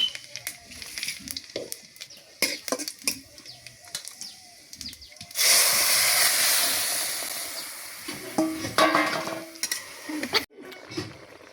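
Sour mango dish poured into hot oil tempered with dried chilies and panch phoron, giving a sudden loud hissing sizzle that holds for a few seconds, between softer clatters of stirring and bird coos in the background.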